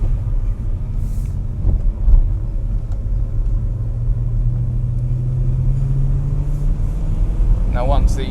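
A BMW E92 M3 idles while warming up, a steady deep engine rumble running at close range throughout with a faint rise in tone and a few small clicks near the end.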